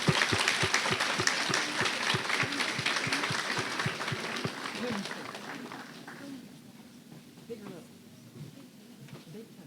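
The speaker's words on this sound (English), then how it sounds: "So let's give a round of applause to Olivia." Crowd applause at a county fair queen competition greeting a contestant, steady rhythmic clapping from a nearby audience that fades away as talk continues over it.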